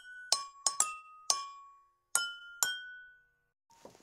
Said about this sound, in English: I have six glasses, all with different levels of water. The different levels make the glass sound like a different note